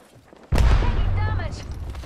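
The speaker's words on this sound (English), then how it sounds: "Grenade." An Apex Legends grenade goes off with a sudden heavy boom, followed by a rumbling decay and crackling debris tail for over a second.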